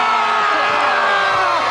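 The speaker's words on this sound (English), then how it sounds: "give us a big cheer" A studio audience cheers and whoops loudly and continuously in a dense crowd roar, with scattered shouts rising through it.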